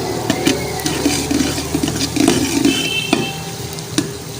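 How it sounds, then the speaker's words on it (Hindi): Chopped onions sizzle loudly in hot oil in a pan, frying steadily while a spoon stirs them with soft scraping knocks throughout, close and continuous with no talk. "तो ऑयल हमारा गर्म हो गया था, हमने प्याज ये डाल दिए हैं। अब इसको हम करेंगे गोल्डन ब्राउन।"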